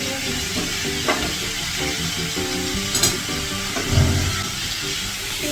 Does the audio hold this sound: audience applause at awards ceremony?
no